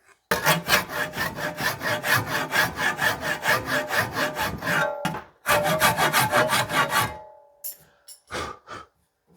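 Hand tool trimming a wooden handle for a vintage axe, a close rhythmic series of rasping back-and-forth strokes, then a short break and another quick burst of strokes before a few scattered scrapes.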